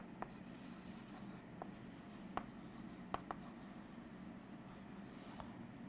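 Chalk or marker writing on a board during a biology lecture, faint scratchy strokes with a few sharper taps against a quiet room hum, no voices.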